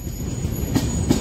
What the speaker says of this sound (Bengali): এই যে প্যাসেঞ্জার ট্রেন আবার দিয়ে দিয়েছে